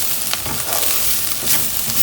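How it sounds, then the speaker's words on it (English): Bitter gourd and onion stir-fried in a pan, a steady close sizzle with faint stirring scrapes running throughout, no voices. "it's just time to mix these ingredients"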